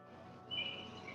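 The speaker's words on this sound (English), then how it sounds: "Whoever has the birds chirping in the background, I love that." Birds chirp faintly in the background outdoors, a few high thin calls rising over a low steady hum of room tone during a casual livestream.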